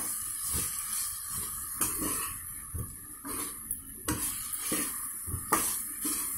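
Cauliflower curry with chili powder, ginger-garlic paste and tomatoes being stirred in a pan: repeated scraping strokes of a spoon against metal over a soft sizzle, fairly close and steady, with no talking.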